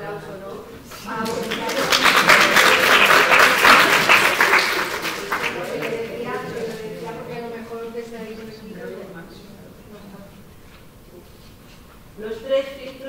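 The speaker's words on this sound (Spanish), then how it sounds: "Bueno, un aplauso, ¿no?" Applause from a lecture audience at an emotional-intelligence class swells for a few seconds, then fades into murmuring and a voice speaking, with a brief rustle near the end.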